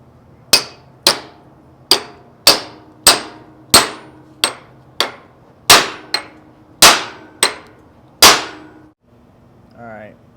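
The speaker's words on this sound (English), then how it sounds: "I was thinking if I put a socket in there and tapped it, it might expand it more." A hammer taps a socket into metal on a 1986 Ford diesel: about a dozen sharp, ringing metallic strikes at a steady, unhurried rhythm, close and loud, each decaying quickly, then a brief quiet scrape at the end.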